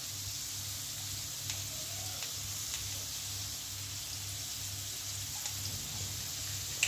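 Cucumber pieces fry with turmeric in a pan, a steady soft sizzle hissing throughout, with a low rhythmic pulsing hum beneath and a few faint clicks.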